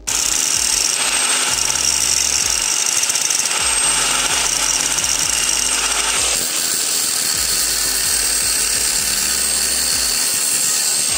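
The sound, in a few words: grinding down a copper pin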